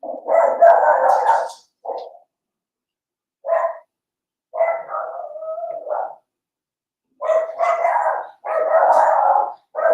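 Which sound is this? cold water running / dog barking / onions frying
dog barking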